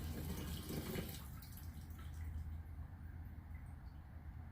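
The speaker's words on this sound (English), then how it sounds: "Pour the fuel back in." Fuel from a 2005 Nissan Altima is poured back into the tank after removal of the fuel pump assembly, a soft, faint liquid gush that tapers off into quiet trickling.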